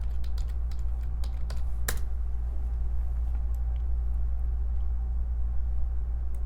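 Keystrokes on a computer keyboard, entering a website search, sit under a steady low rumble like a running vehicle or engine hum; the clicks are faint, with one sharper tap near the two-second mark.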